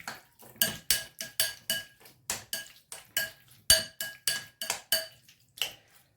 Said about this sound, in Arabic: ونمزجوا المكونات مع بعضياتهم.